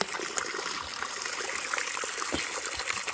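Mountain spring water flows and trickles in a steady, soft, bubbling stream, heard alone and fairly quiet throughout.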